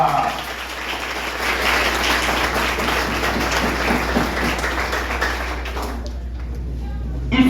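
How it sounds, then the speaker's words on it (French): Audience applause at a gathering of a motorcycle association, a dense, sustained wash of clapping that holds steady for several seconds before dropping away. "je vous invite de bien vouloir les applaudir très très très très fort"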